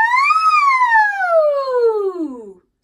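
A single human voice imitating a siren in a vocal warm-up, sliding up briefly then gliding smoothly down for about two and a half seconds, loud, close and alone, ending abruptly.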